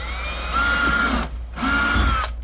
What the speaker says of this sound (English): I'm gonna hold this up basically flush right here and then drill the holes in